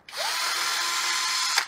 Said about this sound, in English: They provide a little 3D printed adapter that you can put on your drill.